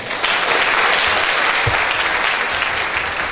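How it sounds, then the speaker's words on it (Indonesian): Audience applause at a Buddhist dharma talk, steady dense clapping from a crowd throughout, fairly loud and close, with a brief low thump partway through. "Tepuk tangan untuk kita semua."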